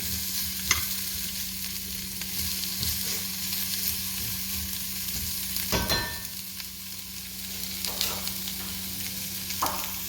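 Onions soften with Spanish chorizo in a pan, giving a steady low sizzle close by, broken by occasional scrapes and knocks of a spoon stirring against the pan at irregular intervals.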